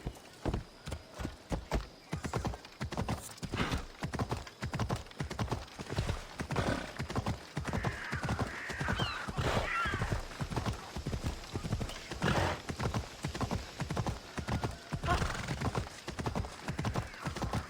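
Phobos the horse gallops in Assassin's Creed Odyssey, a steady rapid run of loud, close hoofbeats lasting throughout, with a brief neigh partway through.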